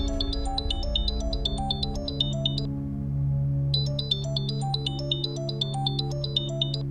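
A phone rings with a repeating electronic melody over a low steady hum, broken by a short pause before the tune resumes; no voices.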